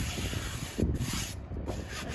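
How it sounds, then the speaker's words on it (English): A brush scrubs a very dirty car tyre with steady, close, hissy rubbing strokes over a short stretch. "So you just want to give it a good scrub."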